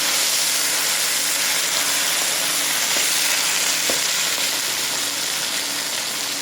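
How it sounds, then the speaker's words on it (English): Meat sears in a wok on an induction burner, giving a steady, loud, close sizzle and crackle of frying oil that runs unbroken throughout, with no talking. "I'll let it sear so not as to tear it away from the wok"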